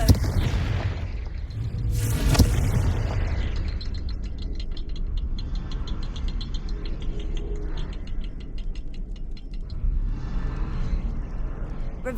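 A Confringo blasting spell bursts in the Hogwarts Legacy video game with a loud boom around two seconds in, then a steady rumbling game soundscape carries on with faint ticking textures.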